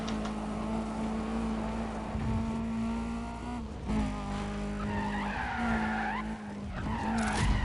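In the video game Need for Speed Undercover, a racing car engine drones steadily while tires squeal and skid in long screeching bursts, with the engine pitch rising and falling as it revs.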